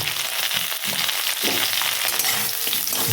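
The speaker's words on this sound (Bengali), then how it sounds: "এটা আমি একটু এর মধ্যে ভেজে নেবো একসাথে জাস্ট একটুখানি ভেজে নেব" Pieces of pointed gourd (potol) fry in hot oil with a steady, dense sizzle and occasional stirring scrapes, close and continuous throughout, with no voices.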